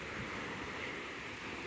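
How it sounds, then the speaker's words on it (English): Waves breaking on a Lake Michigan beach during rough weather, a continuous roaring surf wash with wind noise buffeting the microphone, no voices. "So this beach is getting really pretty wavy."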